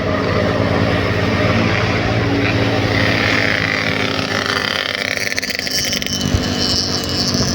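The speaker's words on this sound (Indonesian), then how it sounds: "berisik banget knalpotnya sumpah" Loud motorcycle exhaust roars continuously while riding on a road during the post-Lebaran return trip, a steady broadband drone with wind noise and no pauses.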